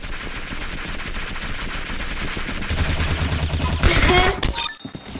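A minigun in Call of Duty fires as one continuous, dense roar of rapid shots, loud and sustained for several seconds before it spins down, and no voice is heard over it.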